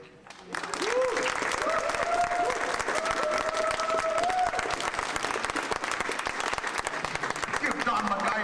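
Audience applause with cheering and whoops after a poetry reading, a sustained crowd of clapping rising quickly and holding loud throughout, with shouts and voices mixed in.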